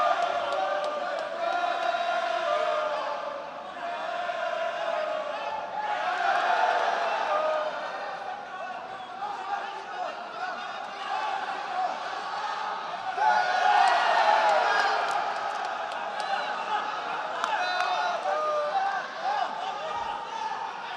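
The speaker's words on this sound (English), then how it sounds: "Just soaking up some of the noise from the crowd here" A stadium crowd at a jiu-jitsu event makes a steady, loud, far-off roar with swells of cheering and shouts, while voices talk over it throughout.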